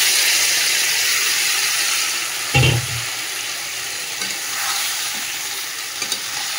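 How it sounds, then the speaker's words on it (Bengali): Marinated chicken with onions sizzles loudly in a pan, a continuous frying hiss broken by a short dull scrape or thump of stirring partway through. "দিয়ে এবারে ভালো করে চিকেনটাকে কষাবো।"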